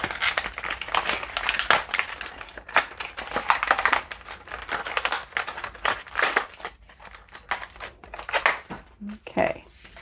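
Packaging for a toy school desk being torn open and cut, with dense crinkling plastic and paper, sharp rips and snipping scissors close up, a voice speaking briefly near the end.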